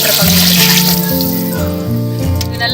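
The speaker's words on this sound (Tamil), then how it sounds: "அந்த அளவுக்கு தண்ணி ஊற்றுறேன்." Water pours steadily into a cooking pot while making chicken biryani, a loud close gush whose pitch rises as the pot fills, running without a break and with no voices.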